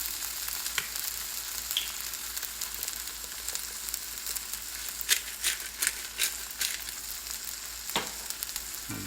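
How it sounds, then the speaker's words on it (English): Shrimp and Chinese sausage fried rice stir-frying in a pan, with a steady sizzle throughout and scraping, crackling stirs that flare up in bursts, close and loud, with no talk. "I'll give that a stir."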